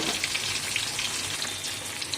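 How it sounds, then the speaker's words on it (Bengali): Small pieces of fish frying in oil in a pan, making a continuous fine crackling sizzle with scattered pops, fairly quiet and close, with no voices. "মাছগুলো ভাজা হয়ে গেছে,"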